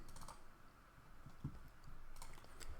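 Computer keyboard and mouse used on a Windows XP computer, faint scattered key taps and clicks in a quiet room, with no talk.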